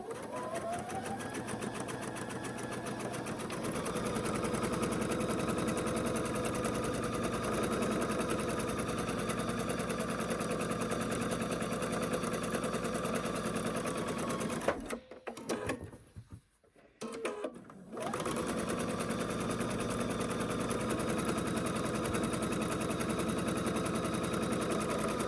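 A sewing machine stitches down the sides of a mosaic quilt block, running in a steady, continuous whir close by for most of the time, with a brief stop partway through before it starts up again.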